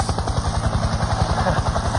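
A steady helicopter drone with rapid rhythmic rotor thumping, loud and close, continuing without pause.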